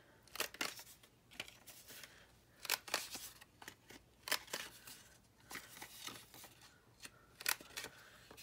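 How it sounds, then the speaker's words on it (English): Paper card corners being rounded for a junk journal envelope, a series of sharp snipping clicks at irregular intervals, close and fairly quiet with no talking. "Rounding the edges of a card."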